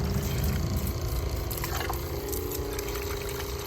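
Clean water rushing through a pressure washer pump being flushed during driveway cleaning, a loud continuous gushing hiss with a steady mechanical hum underneath.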